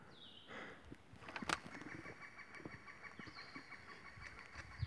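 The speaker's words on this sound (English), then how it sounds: "The birds are chirping." Birds chirp faintly in the distance along the Appalachian Trail in the morning, with scattered short calls over a quiet outdoor background.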